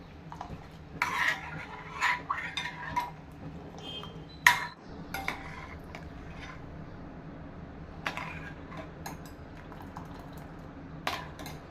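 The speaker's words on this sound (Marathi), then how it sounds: "खीर शिजत असताना चमच्याने मध्ये मध्ये खिरीला डवळत राहायचे आहे" Rice kheer cooks in a pot as a spoon scrapes and taps against the metal now and then, with scattered close clinks over a quiet simmer.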